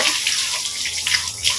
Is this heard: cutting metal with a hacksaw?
no